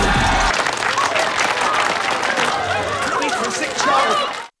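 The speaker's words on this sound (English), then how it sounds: "The crowd cheers." A large crowd claps and cheers loudly and continuously, the applause dense and sustained before it cuts off abruptly.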